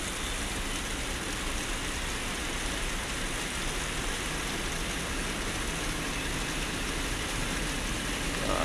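Steady rain falls at a bus terminal, a dense even hiss of drops continuing unbroken and fairly loud throughout with no voices.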